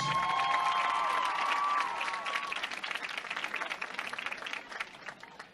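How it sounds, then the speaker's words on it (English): Crowd at a high school football game applauds the senior girls of the homecoming court, a steady wash of clapping and some cheering that starts loud and slowly thins; a brief tonal sound rings over the start. "Please give them all a big round of applause."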